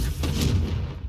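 Confringo explosive spell cast in the Hogwarts Legacy video game, a loud, sustained rumbling blast that fills the whole moment and tails off slightly at the end, with no voices.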